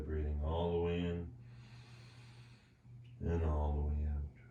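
Deep, drawn-out yoga breaths come in two long voiced passes, one inhale and one exhale, close and fairly loud, with a breathy hiss between them over a steady low hum.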